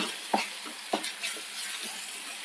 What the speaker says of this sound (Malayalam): നന്നായിട്ടൊന്ന് മിക്സ് ചെയ്യാം